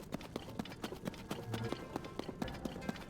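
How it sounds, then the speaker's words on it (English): Wild horses gallop in the video game The Legend of Zelda: Tears of the Kingdom, a quick, uneven run of hoofbeat thuds at a fairly close distance, soft overall, with faint game ambience beneath. "One cool thing about this area too is all the wild horses."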